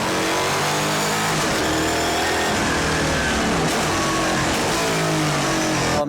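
A Holden HQ drag car engine revving from onboard, a loud, continuous, raw roar that stays dense and full from start to finish with no talk over it.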